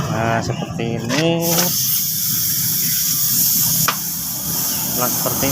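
A spray gun hisses steadily while painting parts of an old motorcycle, a long continuous airy spray running beneath brief tonal squeaks and background noise.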